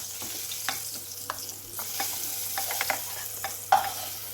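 Nendran banana pieces roast in a hot pan for a semiya dessert, giving a steady low sizzle broken by repeated scraping clicks of a spoon stirring them, close and moderately loud, with no voices.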